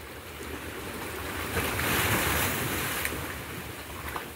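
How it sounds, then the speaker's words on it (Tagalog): Ocean waves wash steadily onto the shore at Vigan, Ilocos Sur, a continuous broad surf roar that swells slightly in the middle, with wind buffeting the microphone throughout. "Ang ganda naman pakinggan ng sound ng wave."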